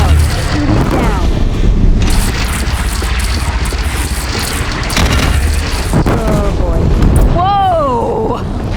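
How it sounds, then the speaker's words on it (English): Bridge brought down in Horizon Zero Dawn: loud, sustained booming crashes and rumbling debris fill the scene, with bursts of impact and whooshing near the end, while voices speak over the chaos. "Bridge is coming down."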